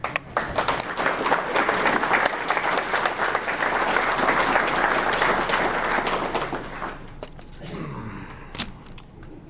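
A crowd gathered for a ribbon-cutting and dedication of a justice center gives sustained, dense applause for about seven seconds, which then thins out to scattered claps.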